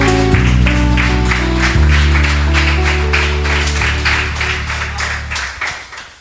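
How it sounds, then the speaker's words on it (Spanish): A church congregation applauds in a dense, steady wash of clapping over sustained organ or keyboard chords, the applause gradually thinning out toward the end. "Dale fuerte su aplauso al Señor Jesús"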